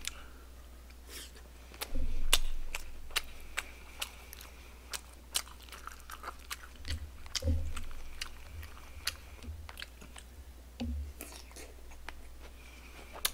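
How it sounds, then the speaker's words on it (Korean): Close, wet biting and chewing of barbecue pork hock (jokbal), with sharp crunchy clicks and soft smacking scattered irregularly over a quiet background. "근데 이렇게 뜯어 먹으면은"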